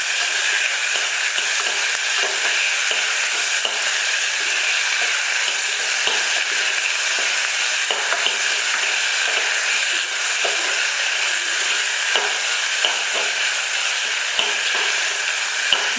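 Onion, garlic and tomato sautéing in hot oil in a pan, a steady close sizzle and hiss with occasional faint stirring clicks and no talk.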